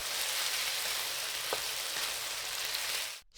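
Dark soy sauce sizzles and evaporates in a hot pan, a steady broadband hiss throughout with a couple of faint crackles, close and moderately loud, then it cuts off abruptly at the end.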